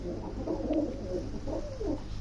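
Pigeons, pedigree fancy breeds kept for sale, coo in soft low repeated phrases, a steady murmuring that rises and falls throughout over a faint constant background hum.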